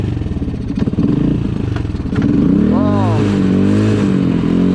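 A Suzuki QuadRunner 230 ATV runs in low range, its single-cylinder engine putting close and loud before revving up with rising and falling pitch, and a voice briefly exclaims over it.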